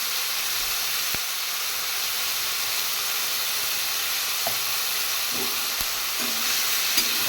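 Food seasoned with salt and turmeric sizzles and hisses steadily in a pan, a constant close frying noise with a few faint knocks of a stirring utensil.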